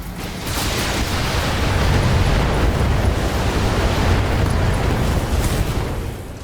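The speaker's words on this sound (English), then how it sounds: "turns out a few ammo explosions will sort of take him out of the fight" Mech ammunition explosions in the Battletech video game, a continuous roaring, broadband blast that swells after the first half-second and holds loud for several seconds before tailing off, with no talking.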